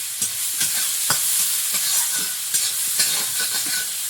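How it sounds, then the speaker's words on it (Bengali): Onions sizzle steadily in a hot pan before garlic paste and river aair fish are added, with repeated scraping and stirring clinks of a spoon over the hiss. "পেঁয়াজটা একটু ভাজা ভাজা হয়েছে"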